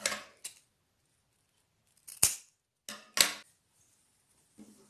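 Scissors cut satin ribbon on the bias in five crisp, separate snips, close and sharp, with quiet pauses between them.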